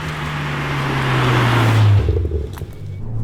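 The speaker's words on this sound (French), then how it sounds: "Un petit peu métallique, ça glougloute lorsqu'on lève le pied" A BMW 1M Coupé exhaust drones steadily and swells, then drops away as the throttle lifts. A metallic burbling crackle trails off into the quiet.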